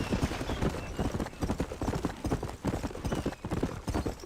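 Horses moving across terrain in Red Dead Redemption, a quick steady clopping of hooves at moderate volume, continuing without pause for a few seconds.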